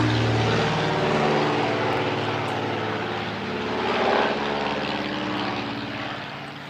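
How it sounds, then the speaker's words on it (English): A propeller airplane passes low overhead, a loud, throbbing engine roar that swells slightly midway and then slowly eases off. "Goes the plane, you guys."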